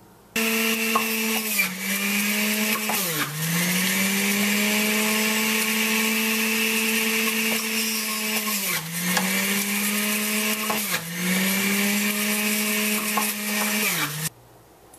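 A juicer grinds carrot, apple, celery, cucumber and ginger, its loud motor whining steadily with pitch dips each time produce is pushed in, running for most of the stretch before stopping.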